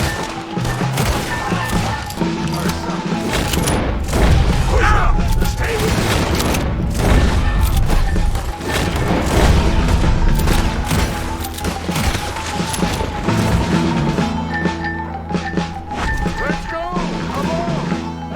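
Sustained gunfire and explosions in the video game Red Dead Redemption 2, a loud, dense barrage of shots and booms running throughout, with a voice speaking over the battle noise.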